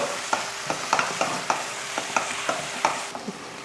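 Mutton masala sizzles steadily in a hot pan while a spoon scrapes and taps against it in a loose, repeated rhythm, close up.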